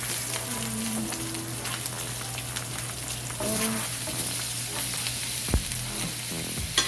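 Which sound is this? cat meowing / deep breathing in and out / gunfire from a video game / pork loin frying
pork loin frying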